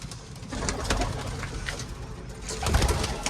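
Pigeons coo softly and repeatedly amid a busy flock, with wing flutters and shuffling close by and a louder burst of activity near the end.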